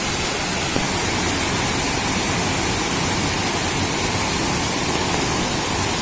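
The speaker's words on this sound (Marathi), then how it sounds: "भरपूर पाणी आलंय भरपूर" A constant, loud roar of rushing floodwater, dense and unbroken throughout, from a swollen stream pouring past nearby after a night of heavy rain in Konkan.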